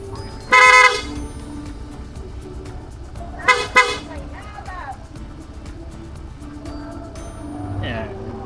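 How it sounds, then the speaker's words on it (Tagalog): Two short, loud honks from a PIAA horn on a Honda ADV160 motorcycle, a few seconds apart, with someone talking and an idling engine underneath. "ito yung switch niya. Yung horn. Pag binusina mo siya,"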